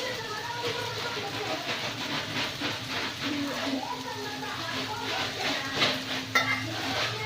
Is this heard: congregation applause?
no